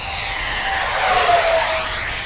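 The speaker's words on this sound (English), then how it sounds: "Beautiful flying plane, wow. Nice and smooth." An Arrows Hobby MiG-29 Fulcrum 64mm electric ducted-fan RC jet flies past with a loud, steady whooshing whine that rises and falls in pitch as it passes overhead.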